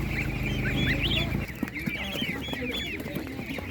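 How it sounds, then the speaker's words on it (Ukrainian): Several domestic chickens cluck and squawk nearby at an animal market, with low rumbling noise at first and lighter background chatter of birds throughout. "Курчата домашні."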